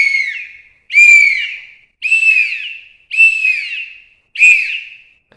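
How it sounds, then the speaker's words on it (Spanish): Loud, close ancestral whistles sound in five separate bursts, several played at once, each a warbling, layered cry that swoops and fades. "Puedo hacer varios silbatos a la vez de esto"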